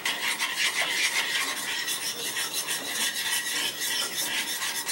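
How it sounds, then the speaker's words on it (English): Spoon scraping and stirring marinara sauce made with tomato paste in a pan, a steady rasping, rubbing texture that goes on without a break, close and fairly loud, no speech. "Just breaking it up and stirring it so we end up with a nice, beautiful, simple marinara."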